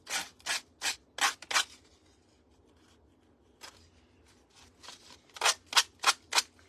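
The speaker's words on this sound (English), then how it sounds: "It sands off really easy." Faux rice paper being sanded off a surface by hand, a run of five quick rasping strokes, a quieter pause with faint scuffs, then another quick burst of six close strokes.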